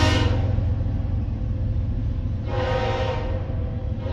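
A Canadian Pacific freight train rumbles past steadily and close by, with a long horn blast at the start and another blast partway through.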